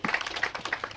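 Audience applause in a Kinyarwanda gathering, a quick ragged burst of hand claps that stays fairly close and moderately loud, with no talk over it.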